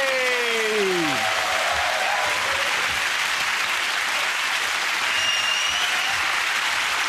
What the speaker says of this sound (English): that round of applause to Russell, Zoe and Andy